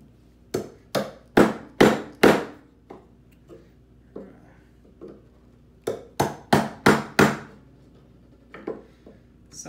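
Mallet blows on a chisel chopping a mortise by hand in wood, sharp close strikes in two quick bursts of about five, with a few lighter taps between.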